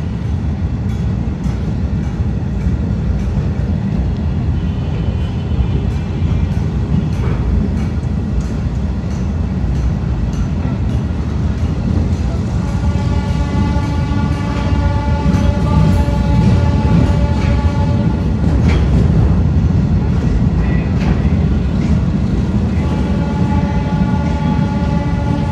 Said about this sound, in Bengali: ট্রেনটি ধীর গতিতে এগিয়ে যাচ্ছে।